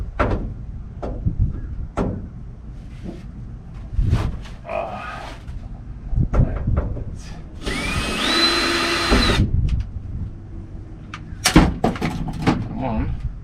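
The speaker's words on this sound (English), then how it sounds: "Luckily, we have our screw gun here still." A screw gun drives three screws into a lens on a project truck, giving short whirring bursts with a rising whine between thumps and handling noises up close.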